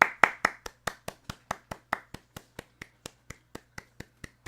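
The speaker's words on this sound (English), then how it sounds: "Little golf clap for you there" Slow golf clap from a single pair of hands, about twenty evenly spaced claps that start a little quicker and louder and then settle into a steady, softer rhythm over a low electrical hum.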